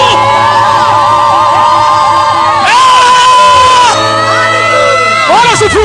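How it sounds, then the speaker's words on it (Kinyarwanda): A church congregation ululates in praise, many voices trilling loudly together in wavering bursts alongside cheering, continuous and close for the whole stretch. "Tuvugirize Imana impundu."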